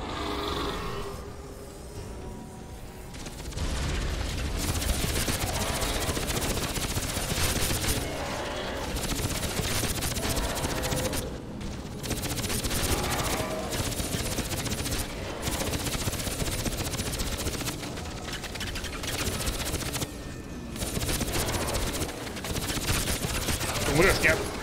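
Rapid bursts of gunfire in the video game Crysis 3 crackle almost continuously with short pauses, dense automatic shots layered over game ambience.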